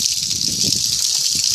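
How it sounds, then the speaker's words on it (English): Tap water running over seedling pots, a loud steady hissing gush close up with some splashing and gurgling underneath, lasting the whole brief moment with no voices. "I'm just going to water them under this tap here."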